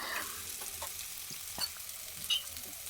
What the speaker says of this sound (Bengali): তারপরে যে আলু আর গাজর দিয়ে একটু ভেজে নিচ্ছিলাম।